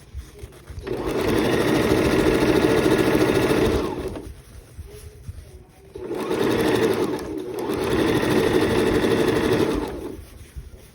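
A sewing machine stitches a fabric scrunchie, running loud and close in three sustained bursts of steady whirring, with short pauses between them and no talking.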